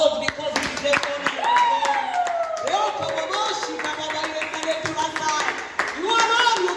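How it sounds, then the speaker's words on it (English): Congregation clapping during worship in a church, scattered claps mixed under singing voices and an ongoing sung melody, rhythmic and moderately close. "let's clap for our Lord, because He is there for us."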